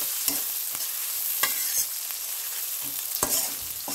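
Chopped onions frying lightly in a pan, a constant soft sizzle broken by occasional scrapes and taps of a spatula, heard close up without any voices.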